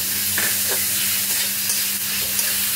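Spices with tomato, salt and ginger frying in a pan and being stirred, a steady close sizzle with soft scraping strokes of the spoon throughout.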